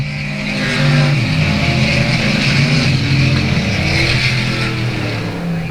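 Race cars running single file around South Texas Speedway, a loud, sustained engine roar that swells and holds as the pack drones past, with shifting pitch and no talk.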